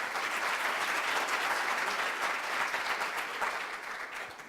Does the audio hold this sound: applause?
yes